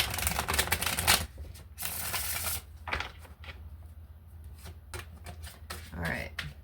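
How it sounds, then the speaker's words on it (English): A deck of tarot cards is shuffled by hand in quick riffling bursts with short pauses between them, close and fairly soft, with no speech over the cards. "Okay, let's do another shuffle."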